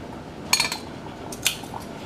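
Canning jar lid lifted from a pot of boiling water beside the jars: two bright metallic clinks about a second apart, close and crisp over a faint background hiss.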